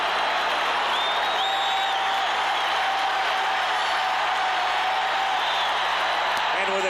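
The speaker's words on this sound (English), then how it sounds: "And with the crowd rising as one, it's ball 4." A baseball crowd at the 1985 World Series Game 1, St. Louis at Kansas City, cheers and applauds without a break as it rises for ball four. The roar is dense and far off, with whoops and whistles over it.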